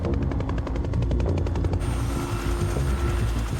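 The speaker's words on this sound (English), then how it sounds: "Is that Clarice in the helicopter?" Helicopter in the video game Quantum Break, a loud rapid rotor chop beating steadily close by, joined by a heavy engine drone throughout.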